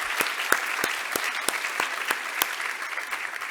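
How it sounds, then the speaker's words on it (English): Sparse clapping with sharp, spaced individual claps over a soft crowd murmur, a small audience applauding nearby. "Let's give her a round of applause as well."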